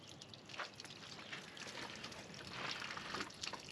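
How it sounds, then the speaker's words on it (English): Water is let out of a farm water tank onto the ground, a faint, continuous splashing and trickling hiss that swells slightly toward the end. "Why you putting water out?"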